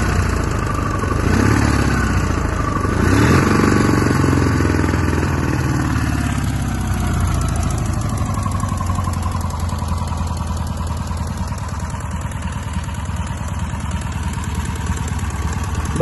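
A Polish motorcycle engine, likely an older emka, starts and settles into a steady, loud idle with a continuous mechanical clatter close by, running alone throughout.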